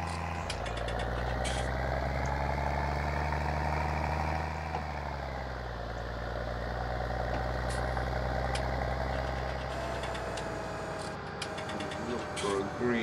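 A farm tractor idles steadily nearby while hitched to an oversized trailer, giving a continuous deep, throbbing engine drone with a slight shift in pitch partway through and no break in the rumble.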